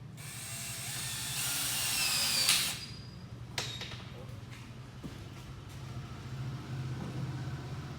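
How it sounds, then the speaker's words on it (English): A power drill whirs for about two and a half seconds while driving screws during a garage upgrade, then stops, followed by quieter clicks and handling noises. "And now it's time to put the screws."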